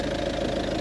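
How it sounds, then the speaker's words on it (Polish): A 2013 Mitsubishi Pajero engine idles steadily with a continuous mid-low hum and a faint knocking texture, close by and loud, with no talk over it. "ten silnik ładnie chodzi tutaj."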